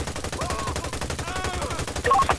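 Sustained automatic gunfire from a GTA 5 shootout, a steady fast rattle of shots running throughout at close, loud level, with a few sharper bright hits near the end.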